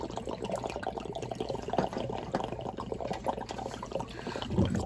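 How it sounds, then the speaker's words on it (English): Water rushes steadily from an opened washing machine supply valve, a continuous broadband gush that stays loud and close throughout, with no talking. "Here comes the water."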